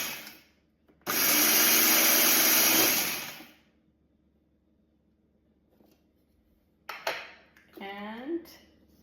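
Hamilton Beach electric grinder pulverizing dried Genovese basil, one loud whirring burst of about two seconds, then quiet, followed by a person speaking.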